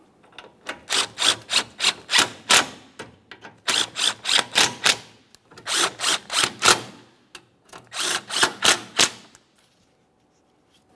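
Mounting bolts on a GMC Acadia radiator cooling fan assembly are snugged up, giving quick rattling ratchet clicks in several rapid bursts, close and crisp, with brief gaps and no talk.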